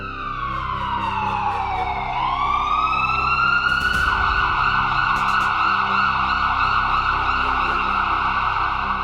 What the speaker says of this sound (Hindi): रेस्क्यू टीम, फायर ब्रिगेड और एम्बुलेंस की आवाजें गूंजने लगी